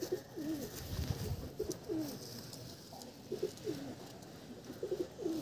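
Desi pigeons in a loft give repeated soft, throaty coos, several overlapping calls spread through the clip, fairly close with a faint background hiss.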